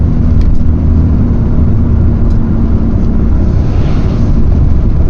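A vintage VW T3/T25 van's engine labors steadily uphill on a winding mountain road, a loud, continuous mid-pitched drone with broadband road and wind noise and no talking.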